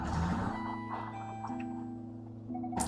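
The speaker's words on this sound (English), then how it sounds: "His alarm clock emits an eerie sound that's otherworldly." An eerie, otherworldly alarm clock in the video game D-Topia, a sustained layered electronic drone of steady tones with shifting higher notes, near and fairly loud, with no speech.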